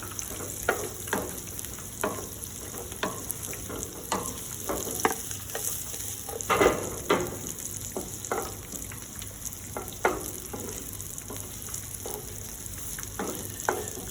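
Onion and capsicum fry in a pan for a restaurant-style chilli chicken sauce, a constant sizzle with repeated spatula scrapes and taps at a moderate, steady rhythm, no voices.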